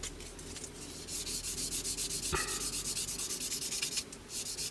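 Sandpaper rubs the edge of a plastic 1/48 Italeri Hawk T1 model aircraft fuselage in close, steady back-and-forth strokes, with one sharp click partway through.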